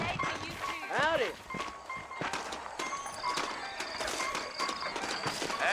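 Horses clip-clop along with hoof steps and an occasional whinny in the video game Red Dead Redemption, mixed with game sound effects and some speech in the background.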